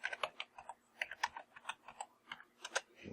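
Keystrokes on a computer keyboard while renaming an object in Cinema 4D, a quick irregular run of crisp clicks close to the microphone with no talking.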